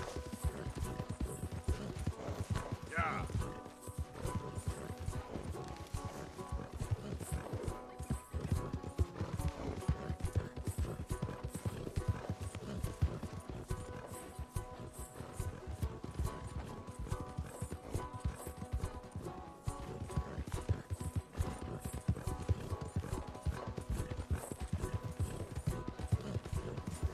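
Steady clip-clop of horse hooves plodding along in a continuous rhythm in the video game Red Dead Redemption 2, mixed with busy game background sounds and a brief whinny early on.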